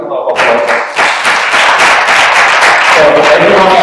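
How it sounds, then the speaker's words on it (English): Audience applause at a debate semi-final, loud dense clapping from a crowd that swells in after a brief start and carries on steadily to the end. "Please give them a round of applause"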